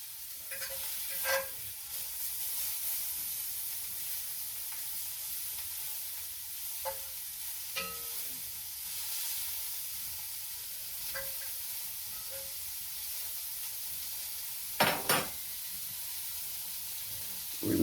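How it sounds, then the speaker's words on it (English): Sausage browning in a frying pan for a breakfast with scrambled eggs, a steady broadband sizzle running throughout with occasional scrapes and clinks of a utensil against the pan. "we're gonna brown that sausage and make some scrambled eggs"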